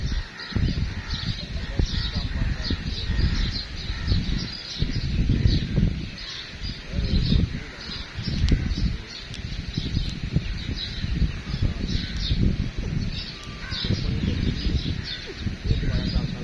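A flock of pigeons flies out and circles back, with wing flutters and bird calls that run steadily under someone speaking.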